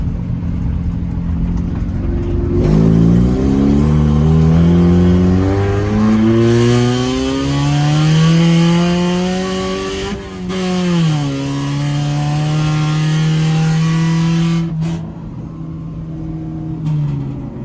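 A Honda CRX race-prepped for dirt driving speeds down a dirt road, its engine loud and close, revving up through the gears with rising pitch, a brief dip at each shift.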